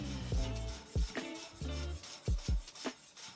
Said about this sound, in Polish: Teraz je zbieramy, ściskamy, zwijamy i drobno siekamy.